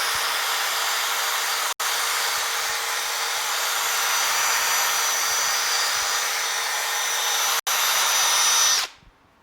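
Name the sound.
power sanding out fine scratches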